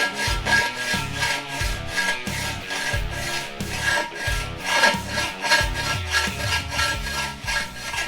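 Sandpaper rubbing down raised edges on a Simmons electronic drum rim, a close, rhythmic rasping of quick back-and-forth strokes repeating steadily, with a few heavier scrapes in between.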